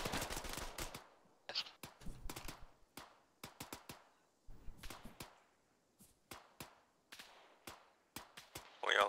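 Sharp gunshots crack in the Arma 3 video game, coming as single shots and quick bursts at irregular intervals, fairly close and loud against a quiet background.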